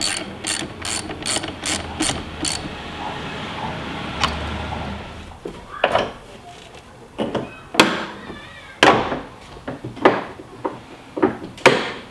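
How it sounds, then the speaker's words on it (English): A ratchet wrench with a 10 mm socket tightens the nut on a battery cable stud of a Jeep Wrangler JL, giving quick bursts of close, crisp clicking pawl strokes, repeated in short rhythmic runs. "use a 10 millimeter to tighten that back up"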